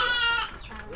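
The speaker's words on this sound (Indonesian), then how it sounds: "Bagus kambing" A single goat bleats loudly and close by, a short wavering cry that fades out within a second.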